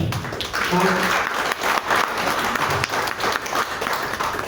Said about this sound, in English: I'm not going to accept that round of applause.